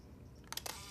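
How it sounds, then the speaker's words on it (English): The mechanical shutter of a Leica camera fires once, a quick cluster of crisp metallic clicks over faint room hiss. "Push the shutter and away it goes."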